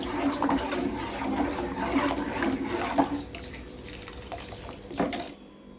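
A pot of water boils on the stove while sago cooks for sun-dried vadiyalu, a steady rushing bubble with someone speaking over it.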